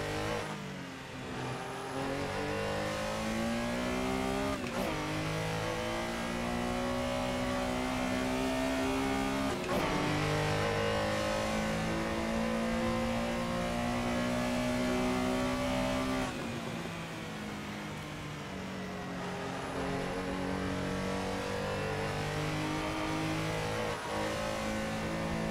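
A Porsche Carrera in Assetto Corsa at Silverstone revs hard and holds near the limiter, its engine note climbing and dropping sharply at each gear change, loud and up close with no talk.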